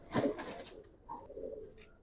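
Pigeons at a pigeon market coo in soft, low, throaty bursts, fairly faint, with a brief brighter rustle near the start.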